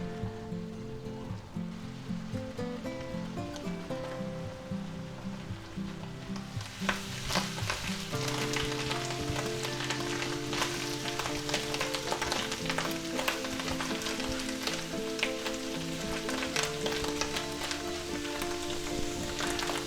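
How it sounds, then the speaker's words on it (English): Fresh mushrooms sizzle and fry in a pan, a steady dense crackle that grows busier partway through, with spattering pops and occasional stirring, no voices. "Just keep cooking them until they're lightly brown and the moisture will be all out of them."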